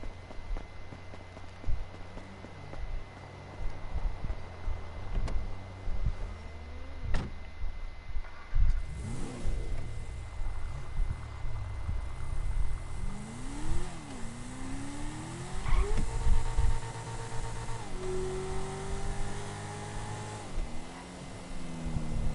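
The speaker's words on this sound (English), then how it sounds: "the car actually sounds good" A Toyota Supra engine in Grand Theft Auto Online revs up and down repeatedly, pitch sweeping higher then settling, over a steady background hum at moderate volume.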